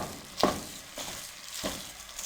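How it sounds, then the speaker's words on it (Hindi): Semolina being stirred and roasted in a pan over a medium flame for halwa, with a soft frying hiss and a few scraping spoon strokes, the loudest near the start, close and fairly quiet. "अब सूजी को उस वक्त तक भूनेंगे जब तक इसमें से अच्छी खुशबू ना आना शुरू हो जाए"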